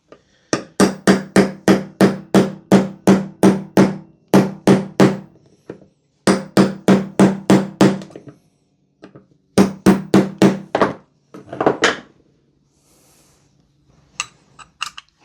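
Repeated hammer blows on an airsoft rifle barrel during a barrel swap, in quick, steady bursts, several runs of sharp loud strikes separated by short pauses, with a few scattered hits near the end.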